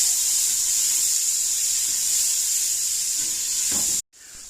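Steady, bright hiss of onions sizzling in a hot pot for potato cheddar soup with bacon, close and continuous without talk, cut off abruptly near the end before resuming faintly.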